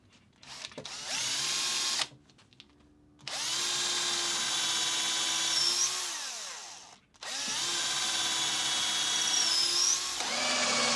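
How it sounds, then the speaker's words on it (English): Power drill boring holes into MDF with a drill bit, two long steady high whines each lasting several seconds, separated by short pauses and closing with a brief burst, close and loud with no talk. "First I used a new and sharp drill bit to get the hole started and then swapped to a longer old bit that I have that is a bit dull."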